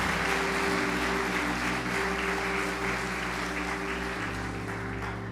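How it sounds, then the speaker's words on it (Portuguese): Congregation applauding during a church service: a steady wash of clapping held over sustained low keyboard or organ tones that shift pitch partway through, continuing evenly to the end. "Um grande aplauso ao Senhor"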